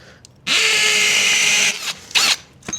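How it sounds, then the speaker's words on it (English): A power drill in hammer mode bores through a house wall for an outdoor faucet. It roars loud and close in one sustained burst of over a second, followed by two shorter bursts. "All right, let's keep on drilling."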